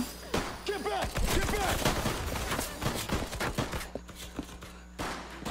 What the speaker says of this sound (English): Don't run into the bullets.